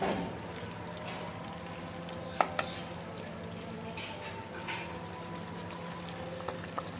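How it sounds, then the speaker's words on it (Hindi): Green-masala mutton mince frying with spices in a pan, a soft steady sizzle with occasional stirring clatters and scrapes of a spoon, quiet and close. "इन सब चीज़ों को इकट्ठा अच्छी तरह भून लेंगे।"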